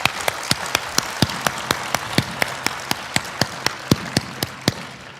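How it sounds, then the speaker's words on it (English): Clapping at an awards ceremony comes as an even, evenly spaced beat of sharp, distinct claps, roughly three per second, over a faint room background. "So give yourselves a round of applause,"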